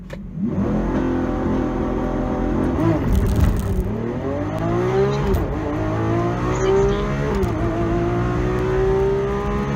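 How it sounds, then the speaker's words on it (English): Lamborghini Aventador SVJ engine played back from a recording, a loud, continuous engine roar that rises and falls in pitch through several revving pulls and gear changes. "now I'm going to play the video of a Lamborghini Aventador SVJ"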